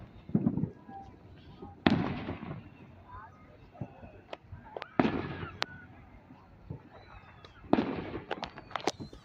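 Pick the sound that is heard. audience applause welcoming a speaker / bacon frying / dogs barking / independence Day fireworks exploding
independence Day fireworks exploding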